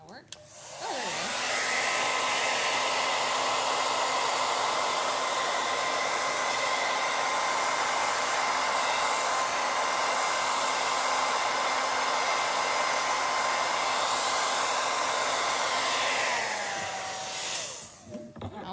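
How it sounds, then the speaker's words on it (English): Hair dryer at a crafting table switching on and blowing with a loud, steady whining roar for about sixteen seconds before spinning down, close by with no voices. "What's going on with my blow dryer?"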